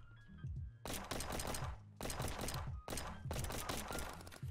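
Gunshots from the Roblox game Brickbattle Royale come in three rapid bursts of crackling fire separated by brief pauses, fairly quiet overall and heard without speech.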